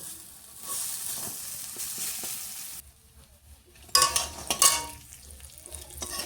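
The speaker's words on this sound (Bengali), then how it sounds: "বড়াগুলো এক সাইড ভাজা হয়ে গেছে, উল্টে দেবো।" Lentil fritters fry in hot oil with a steady hiss and sizzle, interrupted by a brief quieter gap, then sharper crackling bursts and clinks of a utensil turning them in the pan, close and with no talking.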